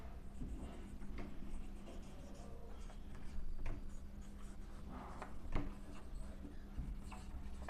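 Chalk or marker writing on a board during a chemistry lesson on Fajan's rule and polarization: continuous scratchy strokes with brief taps and pauses, fairly close, over low room hum, with no talk.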